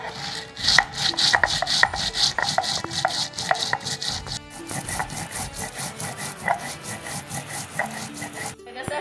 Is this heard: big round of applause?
no